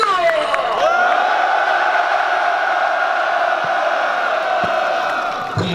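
Crowd at a press conference denouncing the failed delay of the Serious Accidents Punishment Act for small workplaces, voices rising into a sustained, loud unison shout that holds steady for several seconds before breaking off.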